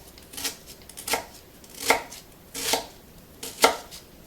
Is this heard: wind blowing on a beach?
no